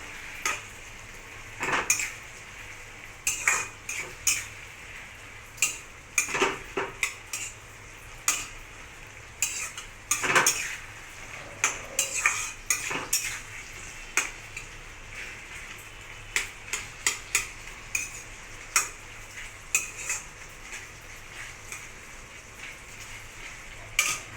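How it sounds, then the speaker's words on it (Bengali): Ridge gourd and potato pieces being stirred and mixed in a kadai for a posto dish produce scattered clinks and scrapes of a spatula against the pan over a faint sizzle, quiet and irregular throughout. "তার আগে এটাকে একটু নাড়াচাড়া করে মিশিয়ে নেব"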